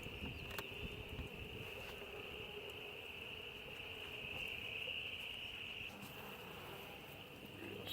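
A beehive stocked with honeybees hums in a steady, faint drone outdoors, with a high insect-like tone running continuously alongside soft ambient noise and no voices.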